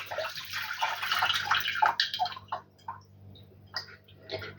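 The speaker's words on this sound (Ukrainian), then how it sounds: "беру кришечку з дірочкою і зливаю водичку в кастрюльку" Water is drained from glass jars through a lid with holes into a saucepan during home preserving of eggplant, with a steady close trickle and splash that tapers into scattered drips and small clinks.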